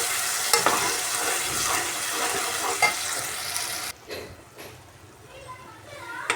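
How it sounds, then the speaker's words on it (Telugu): Mango pickle mixture with mustard and cumin being stirred by hand, a wet, gritty mixing rustle with occasional knocks of the spoon, softening partway through, with talking mixed in. "ఇప్పుడు బాగా కలుపుకుందాము"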